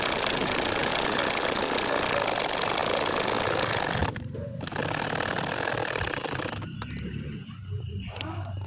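A sewing machine runs continuously and close while stitching a baby nakshi kantha quilt, a dense mechanical whir that drops briefly around the middle and then carries on at a slightly softer level.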